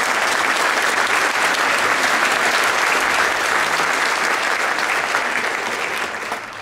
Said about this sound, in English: So I'd like to give you guys a round of applause for that.